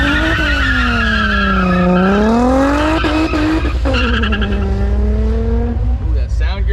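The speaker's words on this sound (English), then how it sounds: "Do a burnout." A Corvette does a loud, sustained burnout, its tires squealing in a long wavering shriek for nearly seven seconds, with the tone rising and falling as the engine revs.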